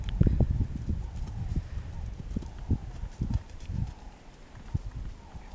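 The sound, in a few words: horse trotting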